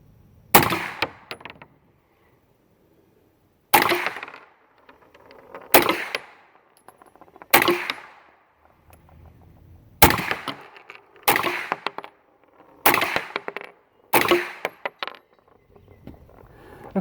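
A Ruger PC9 Patrol Carbine fires about eight single gunshots spaced a second or two apart, each a loud, sharp crack with a brief ringing decay, on an outdoor range with no voices in between.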